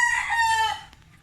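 A White Kelso rooster crows once, close and clear, a single bright drawn-out call under a second long that breaks off cleanly.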